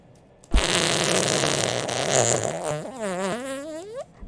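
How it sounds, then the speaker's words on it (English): A whoopee cushion in the video game Jazzpunk lets out a long, loud, buzzing fart that wobbles and rises in pitch before stopping abruptly after about three and a half seconds. "The joke here isn't the fart sound"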